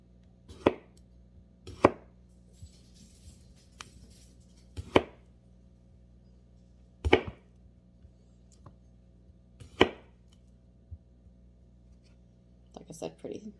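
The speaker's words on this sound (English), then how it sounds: "So I'm just going to slice it thin across the top." A knife cuts thin slices across the top of a washed, scrubbed potato, giving about six sharp, separate chops on a board spaced a second or two apart, quiet and close, with a few softer taps near the end.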